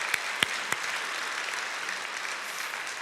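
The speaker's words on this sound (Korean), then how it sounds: "가족들한테 우리 하나님께 영광 박수 올려드렸으면 좋겠습니다" A church congregation applauds in a steady, moderately distant patter of clapping, with a few sharper claps standing out near the start.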